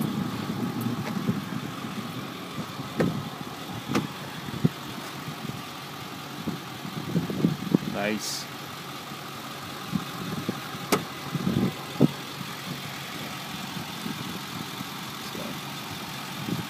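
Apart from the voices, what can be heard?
2008 Ford F350 diesel truck engine idling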